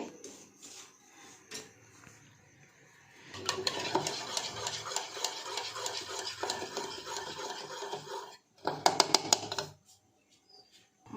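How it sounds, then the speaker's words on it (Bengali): Salt being stirred into a ground spice mix in a bowl for a Bengali home-style fish fry, a steady scraping and clinking of spoon against dish, louder in the middle stretch with a few sharp taps near the end, no talking. "নুনটাকে মিশিয়ে নিচ্ছি ডেড়ো গুঁড়োর সাথে"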